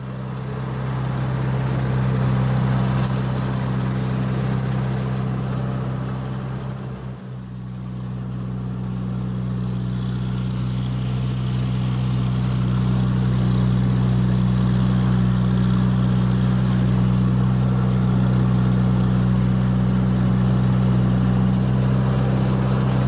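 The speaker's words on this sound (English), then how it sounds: "now I'm gonna take the other tractor, hook up the disc, and I'm gonna start discing it all up" A steady tractor engine pulling a disc harrow through a new garden area drones loudly throughout, with a low rumbling hum and a brief dip in the middle before resuming its constant pull.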